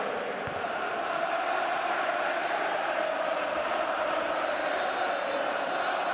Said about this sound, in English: That's why we're champions, is the crowd's chant around Old Trafford at the moment.